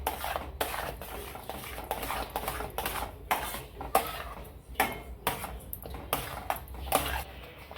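A spoon stirring ghee into an orange jelly mixture in a pot, giving soft repeated scraping and clinking strokes at close range, steady and moderately quiet with no talking.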